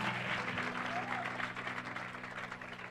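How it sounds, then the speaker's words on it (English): A church congregation claps hands for Jesus, steady dense clapping under a held tonal hum and faint voices, fairly loud throughout. "Clap hands for Jesus."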